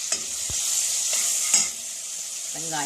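Onions fry in a pan for a creamy garlic mushroom curry, giving a steady, close hiss of sizzling oil with occasional scrapes and clinks of a spoon stirring.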